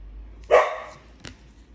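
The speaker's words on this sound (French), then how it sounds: "Elle est tout le temps en train d'aboyer derrière le chat." A pet dog that often barks at the cat gives a single sharp bark at moderate distance, followed by a brief faint yip, over quiet indoor background.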